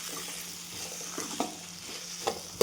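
Cooked peas sautéing in oil in a pan, a soft steady sizzle with a few light scrapes of a spoon stirring, fairly quiet and close with no talking.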